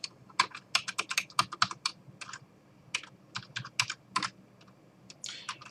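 Someone types on a computer keyboard while entering a password during an operating system installation, giving close, crisp key clicks in quick irregular bursts separated by short pauses, with no talking.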